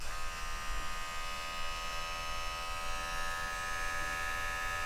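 An Oraimo Smart Clipper 2 hair clipper runs steadily at close range with a constant, fairly quiet electric buzz and hum, with no speech.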